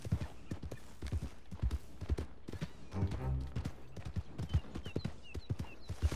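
Steady clip-clop of horse hooves trotting at a quick even rhythm in the video game Red Dead Redemption 2, with a whinny-like sound partway through.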